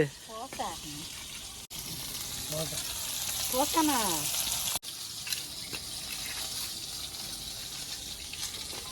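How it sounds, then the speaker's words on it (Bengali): Fish sizzles in a frying pan in a home kitchen with a steady, hissing crackle that continues throughout. Voices talk over it, and a brief bird-like chirping is heard early on. "ঠাকুমা মাছ ভাজছে।"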